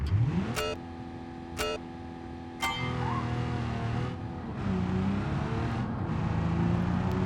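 A six-cylinder car with a manual gearbox in the BeamNG driving game, its engine revving up in several sharp bursts and then holding a steady drone, heard close and alone.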